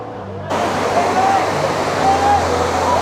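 Water from a full lake spills over the edge as a small monsoon waterfall. A steady, loud, close rushing roar sets in suddenly and continues unbroken.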